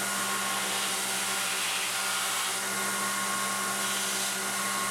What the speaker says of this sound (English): I'll go ahead and grind that tang next.